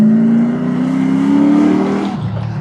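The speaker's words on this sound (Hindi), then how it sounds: "मतलब कि वो प्रॉपर V8 ग्राउल जो है वो निकलता ज़रूर है" A loud engine in a Toyota Mark II Grande JZX90 drift car revs up with a rising growl, holding a steady high note before easing off at the end, close and dominant.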